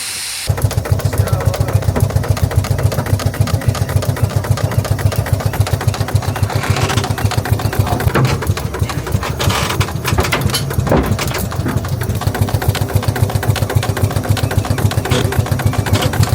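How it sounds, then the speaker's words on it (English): A homemade, fully machined working steam engine runs inside a boat displayed at a classic boat festival, chugging in a steady, rapid rhythm of mechanical pulses that continues evenly for over fifteen seconds, close and fairly loud. "actually machined all the individual parts and built a working steam engine"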